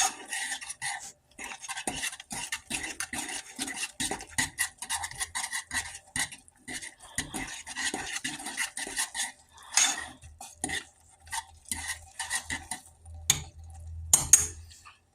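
A utensil stirs and mixes stovetop stuffing in a pot for Thanksgiving dinner, giving steady repeated scraping and clinking for about fifteen seconds, with a louder knock near the end.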